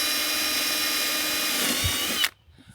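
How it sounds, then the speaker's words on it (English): A power drill whines steadily at high speed for about two seconds while boring a hole in a 2016 Winnebago View motorhome, then cuts off abruptly, leaving near silence. "drilling holes in your motorhome."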